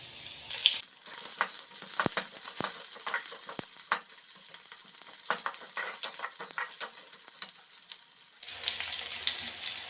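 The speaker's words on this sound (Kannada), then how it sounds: "ಒಂದು ಸ್ವಲ್ಪ ಎಣ್ಣೆ ಹಾಕ್ಬಿಟ್ಟು ಅದು ಗೋಲ್ಡನ್ ಕಲರ್ ಬರೋವರೆಗೂ ಫ್ರೈ ಮಾಡ್ಕೋಬೇಕು" Food frying in a little oil until golden, heard as a steady close crackling sizzle with frequent sharp pops and stirring scrapes, with a brief louder hiss near the end.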